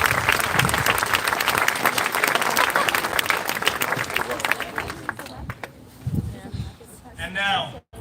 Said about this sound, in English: How about a nice round of applause for our parents?